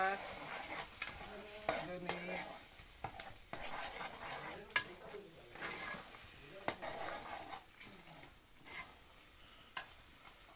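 Onion, tomato and red chilli masala stirred and fried in a pan on a wood-fired stove, a low sizzle broken by frequent clinks and scrapes of a spoon against the vessel, quiet and close, with faint talk at moments.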